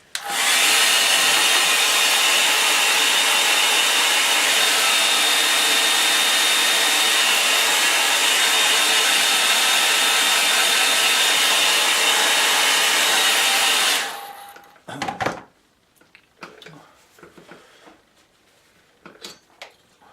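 A hair dryer blows steadily and loudly to dry ink on a line-and-wash painting, a continuous broadband whoosh that runs for about fourteen seconds before cutting off, followed by a few faint clicks and handling sounds.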